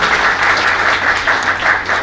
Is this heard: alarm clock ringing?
no